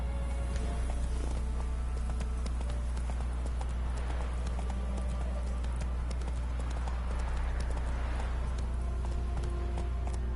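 A horse gallops in The Witcher 3 video game, with a rapid, continuous clip-clop of hooves that stays steady and fairly close throughout, over faint game ambience.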